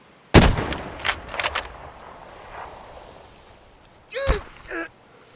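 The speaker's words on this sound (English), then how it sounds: "It's a scav shooting." Gunfire from a scav in Escape From Tarkov rings out as a sharp, loud shot followed by a few more scattered reports, with a brief voice-like cry near the end.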